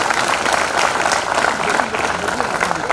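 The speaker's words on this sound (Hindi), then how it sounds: "एक बार जोरदार तालियां बजाएं।" Audience at a poetry recital in Gorakhpur breaks into loud, sustained applause, a dense steady wash of clapping with no break.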